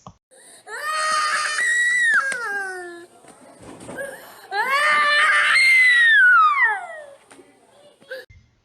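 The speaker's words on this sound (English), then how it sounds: "He could be enjoying himself one minute and the next minute he's having a tantrum similar to this." An autistic child throwing a tantrum cries and screams loudly in two long wailing bursts, with sobbing breaths and whimpers between them, close by.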